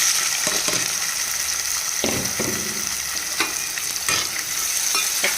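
Chopped onions hit hot oil in a pan and sizzle loudly and steadily, with a few stirring scrapes and clinks cutting through the constant hiss.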